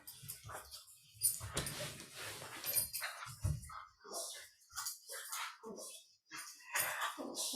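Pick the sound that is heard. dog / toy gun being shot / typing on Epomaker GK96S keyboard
dog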